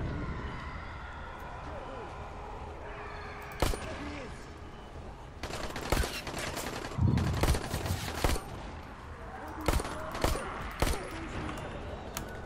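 Pistol shots in the zombie video game Dying Light: several sharp cracks spread across the clip, a few in quick succession, over a busy game soundscape with faint distant siren-like tones.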